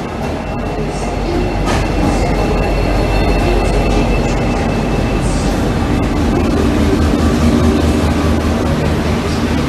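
A Steamrail special steam train arrives at Southern Cross station, a loud, continuous rumble of rolling wheels and carriages close by, with brief metallic squeals.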